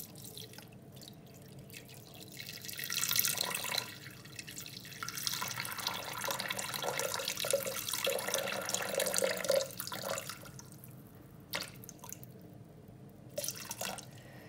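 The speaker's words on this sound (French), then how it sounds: "je vais venir mettre mes 300 g d'eau tiède dans le bol" Lukewarm water, about 300 g, is poured into a Thermomix bowl for homemade bread, a close, gurgling stream with drips that swells and fades over several seconds.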